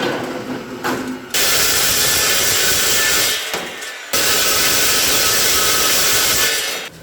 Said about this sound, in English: I'm going to drill out the 3/4 inch hole